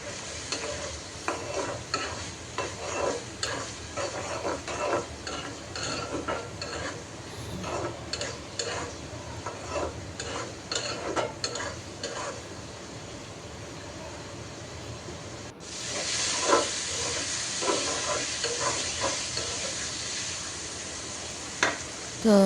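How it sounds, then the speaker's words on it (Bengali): Spice masala of turmeric, coriander and chilli powder with salt stir-fried in a pan, a steady sizzle broken by frequent spatula scrapes and stirring clatter, growing brighter and louder toward the end. "তো মশলাটা দেওয়ার পর আমি কষিয়ে নিলাম অনেকক্ষণ পর্যন্ত আর কি ভেজে নিলাম"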